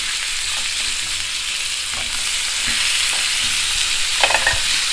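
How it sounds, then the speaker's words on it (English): Masala lamb chops sizzling on an oiled griddle, a constant close hiss and crackle of frying meat, with a few soft knocks and scrapes as the chops are turned. "now it can go on the griddle, turn it around, and now let it cook for another 7 minutes"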